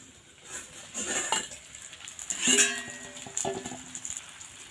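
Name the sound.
opening the lid of a cooking pan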